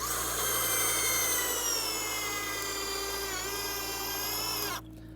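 A drill drives a long 10-inch log screw into a log cabin floor, a loud, steady high-pitched whine that dips slightly under load for about five seconds before cutting off abruptly, close and without talk.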